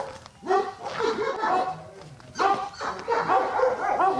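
A detection dog in training barks and yips in repeated bursts, close and fairly loud, with whimpering between barks in a training setting in Buryatia.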